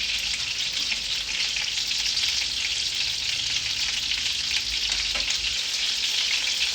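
Thin chicken cutlets fry and brown in a pan for a chicken artichoke French dish, giving off a steady, dense sizzle that stays loud and even throughout with no talking.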